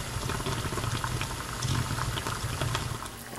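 A rubber RC car tire simmering in a pot of boiling water, a dense continuous bubbling rumble with a low roaring churn, steady and close with no other sounds.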